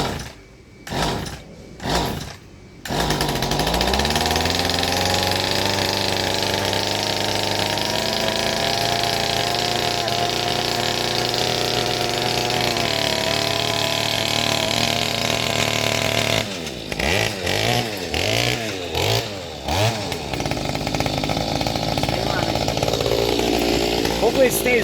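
A Mantis tiller's small two-stroke engine, freshly fitted with a new carburetor diaphragm, sputters through a few pulls, then catches and runs steadily at a loud, close idle before revving up and down in wavering bursts near the end.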